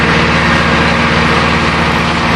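A tractor engine runs at a steady idle, producing a continuous, even, fairly loud drone with no voices over it.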